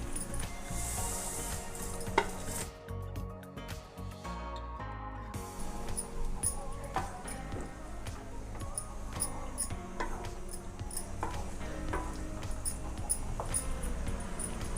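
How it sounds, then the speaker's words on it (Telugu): Roasted semiya (vermicelli) is added and stirred into boiling water for semiya pulao, giving a steady bubbling, sizzling wash with light scraping stirs and small clicks close by, no voices. "ఇప్పుడు మనం వేయించి పెట్టుకున్న సేమియా వేసుకొని కలుపుకోవాలి."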